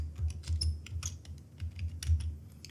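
Close, clear typing on a computer keyboard while entering entries in an Excel spreadsheet, with an uneven run of distinct key taps and soft thumps.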